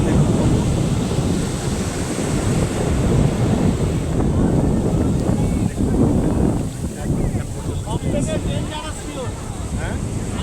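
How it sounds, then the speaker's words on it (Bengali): Heavy sea waves roar without pause at Puri beach, a dense, loud rumble of surf mixed with wind buffeting the microphone, and a voice faintly joins near the end. "দেখতেই পাচ্ছেন সমুদ্রের সেই গর্জন"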